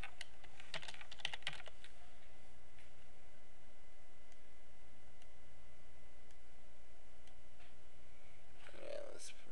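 Quick clusters of computer keyboard keystrokes, brief bursts of clicks mostly in the first couple of seconds, then sparse isolated taps under a quiet room hum, with a faint voice murmuring in the background.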